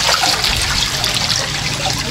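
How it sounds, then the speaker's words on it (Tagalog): Rainwater runs after a downpour in a steady, loud rushing trickle, a continuous close stream of flowing water with no voices. "Pagkatapos po naulan, laki po ng tubig ngayon 4 size."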